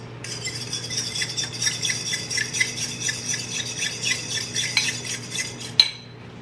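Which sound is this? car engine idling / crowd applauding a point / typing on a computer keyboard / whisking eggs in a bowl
whisking eggs in a bowl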